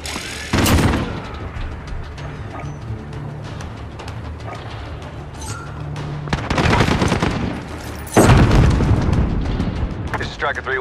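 Airstrike blasts in the Call of Duty Modern Warfare video game: a loud boom near the start, then two heavy, sustained explosive bursts late in the clip over a steady rumbling battlefield bed with scattered gunfire.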